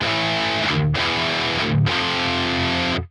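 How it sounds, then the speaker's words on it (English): Thick distorted electric guitar chugs with palm-muted chords, broken by two short muted hits, loud and close, ending abruptly. "I'm doing like a palm muted kind of chug in between"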